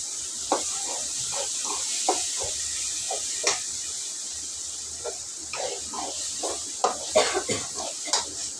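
Ginger garlic paste and coconut are stirred in a frying pan, a soft sizzle under repeated scraping and clinking of a spoon against the metal pan in an irregular rhythm, close up.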